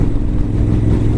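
A Honda Africa Twin motorcycle engine revving up close, a loud continuous low rumble that holds steady throughout.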